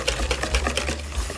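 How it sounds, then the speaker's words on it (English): A whisk beats sugar and melted margarine in a bowl, quick rhythmic scraping taps close up, brief and moderately loud with no voices. "Use a whisk to make sure you get all those lumps out."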